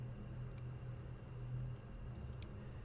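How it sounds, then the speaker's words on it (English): Night crickets chirp in a soft, evenly spaced pulse over a low steady wash of trickling water from a stone-ringed pool among trees, faint and distant. "The only sounds are the trickle of water and the night crickets."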